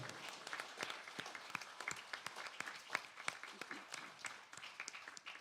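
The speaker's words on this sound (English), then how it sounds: "give a wonderful round of applause to all the people who volunteer" Audience applause for volunteers at a Sunday morning satsang gathering, a sustained wash of clapping from a crowd that holds steady for several seconds with sharper individual claps standing out.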